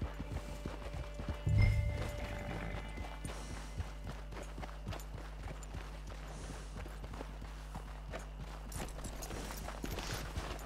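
Steady clip-clop of video-game horse hooves at a walking pace, close and continuous, with a brief louder thump early on over a low ambient hum.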